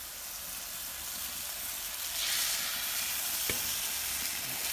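Mushrooms and egg fry in a large pan on a stove, a steady bright sizzle and crackle that swells slightly midway, close and continuous, with one soft knock near the end.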